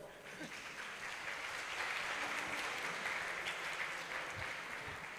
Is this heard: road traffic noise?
no